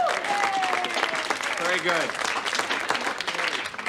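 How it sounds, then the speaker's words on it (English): Classroom applause, a brisk patter of clapping from a small group mixed with loud talking, laughter and a short remark spoken over it. "Applause, applause."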